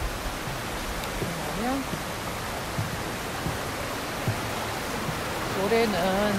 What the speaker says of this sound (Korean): 비가 많이 와서 계속 깨끗한 물이 줄지를 않고 흐르고 있어요.